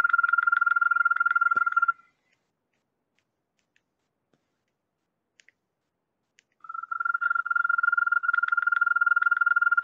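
A recorded toad's trilling call, a steady high-pitched rapid pulsing trill, plays for about two seconds, falls silent, then resumes and continues to the end.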